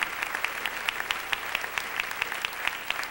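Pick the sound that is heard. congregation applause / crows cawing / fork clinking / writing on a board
congregation applause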